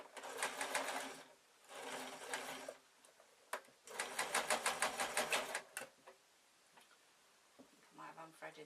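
A sewing machine stitches black cotton on a flowing shirt. It runs in two long bursts of rapid, close-up mechanical clatter separated by a short pause, then settles into a quieter spell with a faint last whir.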